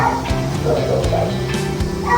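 A German Shepherd mix gives a few short, yippy barks up close at an animal shelter, with people talking over and around it.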